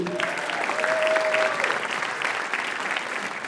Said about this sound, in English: this is probably the loudest applause that she's going to hear all week